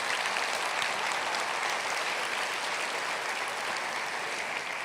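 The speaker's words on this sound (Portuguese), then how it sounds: "pode aplaudir, ele é digno." A church congregation applauds during a sermon on gratitude, a steady, even wash of many hands clapping at once that fills the space for several seconds without pause.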